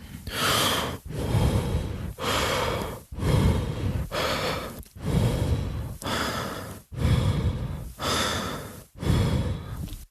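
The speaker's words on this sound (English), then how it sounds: "that is a much more relaxing breath cadence" Long, slow breaths at a 1-to-4 breath ratio, about nine of them, each a drawn-out airy rush with short pauses between, close and steady with no speech.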